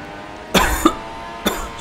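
A person coughs twice, a sharp close double cough followed by a second single cough about a second later, standing out against a low steady background hum.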